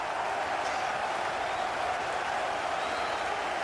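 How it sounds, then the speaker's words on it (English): A cricket crowd at an Ashes Test match roars and applauds after a wicket falls, a steady, dense wash of clapping and cheering that holds evenly throughout without letting up. "A roar from the crowd"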